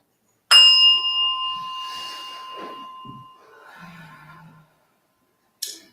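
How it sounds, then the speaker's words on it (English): A gong is struck once during a Sunday church service, ringing out loud and bright before a long, shimmering decay over several seconds. A second strike cuts in at the very end. "I'm going to gong"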